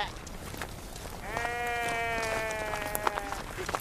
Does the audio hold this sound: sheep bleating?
yes